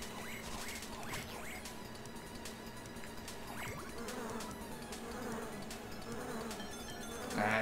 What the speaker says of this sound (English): And I'm avoiding the bees.